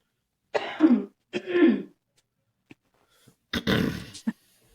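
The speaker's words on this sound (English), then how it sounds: "I just need to cough" Two rough coughs close to the microphone, a short pause, then a harsher throat-clearing cough, with silence around them.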